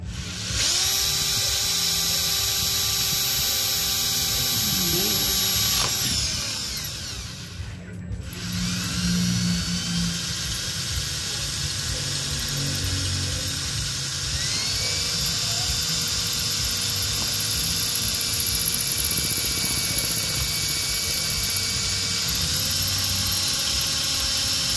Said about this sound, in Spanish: Primero vamos a hacer el hoyito con una broca más pequeña. Y ahorita vamos a insertar la de la broca más grande.